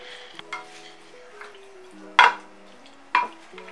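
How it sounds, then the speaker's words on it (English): A spoon stirring garlic powder and black pepper into a pan for coconut curry shrimp, with a few soft scrapes and two sharper metallic clinks against the pan over a quiet background. "a little bit of garlic powder, some black pepper. We're gonna stir that in."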